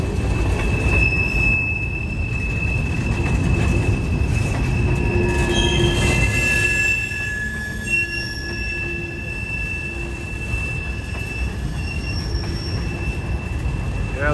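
Derailed CSX boxcars are dragged along the rails, producing loud, shrill metallic squeals and sustained screeching tones over a low grinding rumble, with the noise easing somewhat after the midpoint while the squealing continues.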